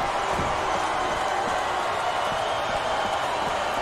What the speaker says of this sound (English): This sellout crowd just can't get enough of these superstars.